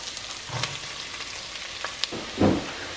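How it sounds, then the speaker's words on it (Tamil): Ginger, garlic and onion sautéing in butter in a pan for tomato soup, a quiet crackling sizzle broken by a few stirring scrapes and a louder burst near the end, no speech. "இஞ்சியும் பூண்டையும் போட்டுடுறேன். போட்டுட்டு அதையும் வந்து நல்லா பட்டரையும் நல்லா வதக்கிக்கிறேன்."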